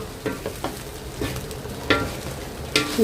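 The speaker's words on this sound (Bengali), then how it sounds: "এখন জাস্ট এই যে ডিমটা অ্যাড করবো আর একটু ভাজা ভাজা করে" Egg and vegetables frying in a pan, a low sizzle punctuated by repeated scraping and knocking strokes of a spatula at irregular intervals, close by.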